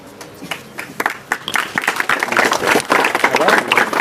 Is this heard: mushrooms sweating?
no